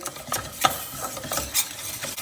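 Flour and vegetable oil stirred together in a pan over low heat, a steady series of scraping, swishing strokes with a faint sizzle, close and clear with no talking.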